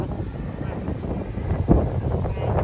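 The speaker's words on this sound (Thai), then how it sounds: "เขาก็ได้ยินลมมันพัดไปทางบน" Wind gusts steadily outdoors beside a forested stream, a continuous rushing roar with a stronger buffet midway.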